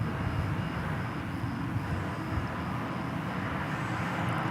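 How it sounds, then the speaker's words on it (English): An American Airlines jet on arrival at DFW airport in Texas gives a steady broadband engine roar and rush that holds throughout at moderate distance, with no voices. "That was American Flight 1065, check, 1065. coming in from Austin here in Texas."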